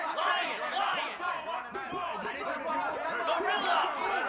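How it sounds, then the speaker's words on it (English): Loud, continuous football stadium crowd noise at an OSU versus Arkansas game, a dense roar of chatter and shouting that swells and holds steady throughout, with scattered yells rising above the din. "This crowd trying to make life miserable for this offense"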